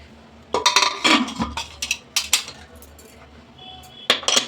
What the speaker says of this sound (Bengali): এবার ঢাকনাটা বন্ধ করে দেবো